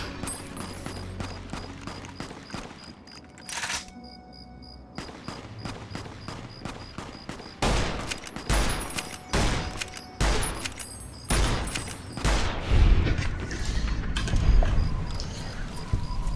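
A gunfight with super mutants in Fallout New Vegas sounds as a string of sharp gunshots, some in quick bursts and some spaced apart, with loud cracks and thumping impacts running throughout.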